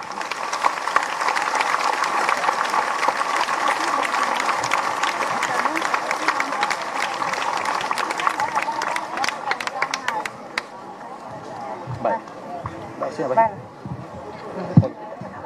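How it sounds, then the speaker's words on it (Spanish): Applause from a large audience at a commemoration ceremony for the 1989 FMLN offensive, dense and steady for about ten seconds before thinning into scattered claps, whistles and crowd noise. "recibamos ese reconocimiento con un fuerte aplauso"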